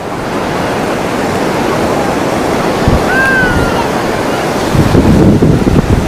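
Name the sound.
ocean waves breaking at Puri beach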